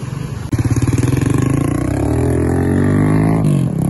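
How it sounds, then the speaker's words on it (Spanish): A worn-out motorcycle with a carburetor engine starts loud and close with a sharp kick, then throttles up into a steady, rising drone as it pulls away. "Ahí se van los chicos con la moto."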